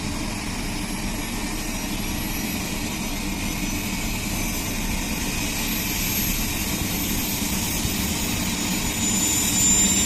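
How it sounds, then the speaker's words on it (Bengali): A helicopter engine running steadily at a convention ground, with its main and tail rotors turning. It makes a loud, continuous turbine roar and whine that holds without a break and swells slightly toward the end, with no voices. "ঠিক আছে, ইঞ্জিন স্টার্ট হয়েছে, আমরা দেখতে পাচ্ছি হেলিকপ্টারের।"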